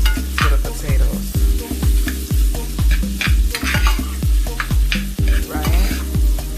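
Lobster meat cooks lightly in a pan, stirred with a utensil that knocks and scrapes in a steady rhythm of repeated strokes over a soft sizzle, close and fairly loud.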